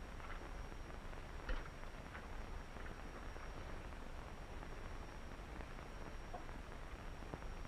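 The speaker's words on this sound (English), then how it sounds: "The rain ought to let up soon." Steady, even hiss of rain falling outside in a 1947 black-and-white crime film, a continuous wash of noise with faint scattered patter, no voices.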